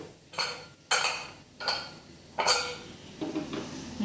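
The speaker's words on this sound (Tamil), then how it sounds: "இந்த நேரத்தில் நம்ம குக்கரை மூடி போட்டுக்கலாங்க." A metal pressure cooker lid set and locked onto a pot of boiling chicken kuruma gives several sharp clanks and scrapes spaced about a second apart, close and clear.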